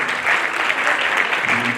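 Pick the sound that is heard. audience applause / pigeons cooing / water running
audience applause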